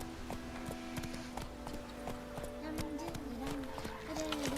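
Horse galloping in The Witcher 3, rapid rhythmic hoofbeats pounding under game music and ambient sound, with a voice speaking briefly over it.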